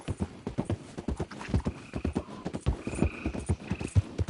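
In the video game Red Dead Redemption 2, a horse's hooves clip-clop in a quick, steady rhythm at close range for several seconds, with no voices.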